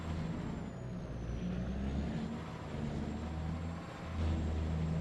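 A truck in Farming Simulator 25 rumbles steadily at low speed, its engine drone loud and constant with a faint high whine, swelling slightly near the end; no one talks.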